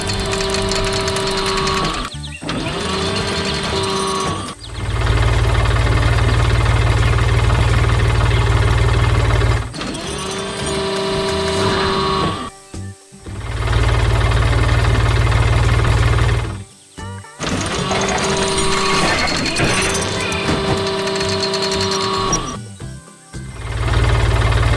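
An animated blue tractor working in a flower garden gives a loud, steady mechanical whirring and rattling hum that keeps cutting out briefly and starting up again, with deep low droning during the running stretches.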